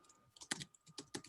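Typing on a computer keyboard during an online meeting, a quick uneven run of close, soft key clicks with no talking.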